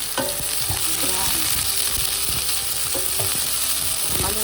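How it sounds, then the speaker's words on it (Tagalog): Chicken sautés loudly in a pan for a chicken tortilla wrap, with a continuous frying sizzle and repeated scraping, clattering stirs close by. "I-saute lang natin siya."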